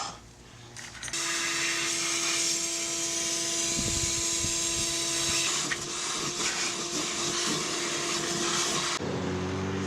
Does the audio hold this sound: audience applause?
no